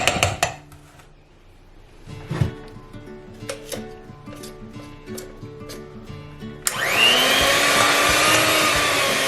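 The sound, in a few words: electric mixer mixing brownie batter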